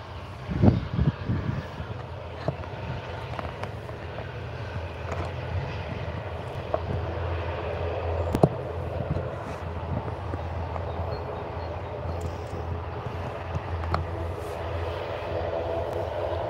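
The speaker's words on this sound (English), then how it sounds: "I'm now lining up as the Aer Lingus 80 off of Dublin." An Aer Lingus airliner from Dublin at Liverpool Airport, heard as a steady low rumble of aircraft engines with a few clicks and knocks, moderately loud and alone.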